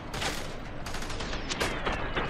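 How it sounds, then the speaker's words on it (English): Submachine gun fire in the game F.3.A.R., repeated crackling bursts of shots at a steady moderate level, spaced irregularly across the stretch. "I'm using my submachine gun."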